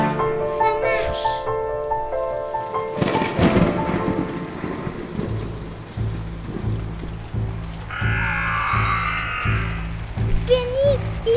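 A rain shower pours steadily while thunder rumbles and cracks, loud and close, over a fantasy soundscape with music and other effects layered in.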